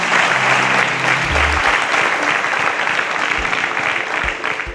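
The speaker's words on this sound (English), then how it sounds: "A round of applause for Donald, please." An audience applauds a contestant on a science quiz show, a loud, steady wash of clapping that fills the whole stretch and thins slightly toward the end.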